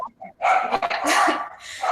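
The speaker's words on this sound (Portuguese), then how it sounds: "os cachorros vão latir" Dogs bark in a few sharp, loud bursts close by, mixed with short noisy yaps, with no talking.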